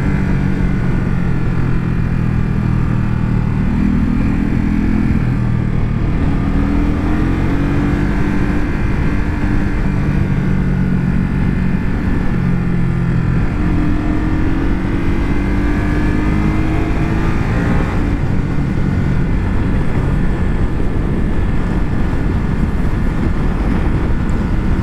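Ducati Supersport 950 S motorcycle from 2021 with its engine running steadily and loud throughout, pitch rising and falling as it pulls through the gears, wind roar underneath, no talking.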